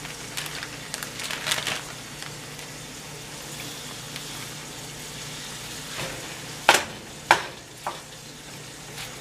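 A pound of ground chuck frying in a pan with a steady soft sizzle, broken by a few sharp scraping knocks of stirring late on.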